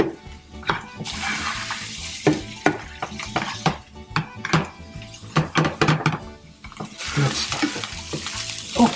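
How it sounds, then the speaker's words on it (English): Onion frying in a pan for paccheri with salmon is stirred with a wooden utensil, giving frequent knocks and scrapes over bursts of loud sizzling. "So we let the onion make a nice brown golden color. Stir it."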